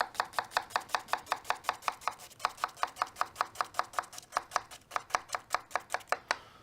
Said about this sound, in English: And you're going to start slitting the onion.